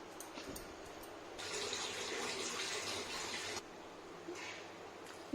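Water is poured into a cooking gravy for okra dopiaza, a soft steady splashing gush for a couple of seconds, fairly faint and close, with quieter kitchen noise before and after.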